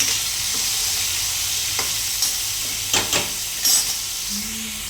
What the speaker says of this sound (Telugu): ఇదైతే సిమ్లో పెట్టుకొని ఉప్పు పసుపు వేసి ఫ్రై అయితే చేసేద్దాము.